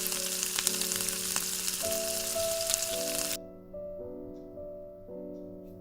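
Water is poured into frying chili chicken sauce in a pan. A bright crackling sizzle runs for a few seconds and then drops off sharply, leaving soft background music and faint bubbling.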